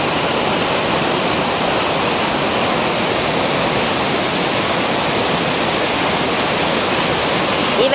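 Waterfall in a forest surrounded by trees and greenery, a steady, loud, unbroken roar of falling water filling the whole stretch with no voices.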